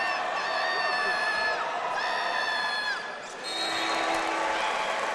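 Spectators cheer and whoop from the stands at a Philadelphia Catholic League high school boys' basketball game, Father Judge against Neumann-Goretti. The loud, sustained crowd noise carries shrill individual shouts and briefly dips before rising again.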